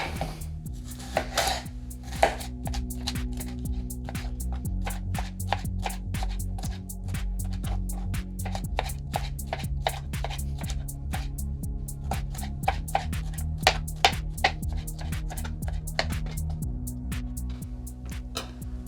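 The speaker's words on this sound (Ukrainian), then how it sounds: "Тепер так само кубиками я нарізаю солодкий перчик." Rhythmic knife chops on a cutting board, quick repeated taps as a sweet pepper is cut into cubes, with soft music underneath.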